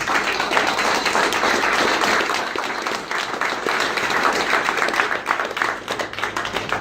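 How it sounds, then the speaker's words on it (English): A sustained round of dense audience clapping at a book launch, loud and continuous for several seconds with no speech over it. "So give these guys a round of applause."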